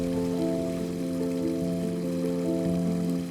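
A custom 24-foot infinity waterfall pours steadily, its continuous rushing water mixed with a constant low tonal hum, near and even throughout.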